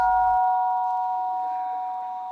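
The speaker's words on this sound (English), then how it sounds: "When the monks heard the gong, they went up to line up for the breakfast." A monastery gong strikes once to call monks to breakfast, a loud bright metallic tone that rings on and slowly fades with no other sound.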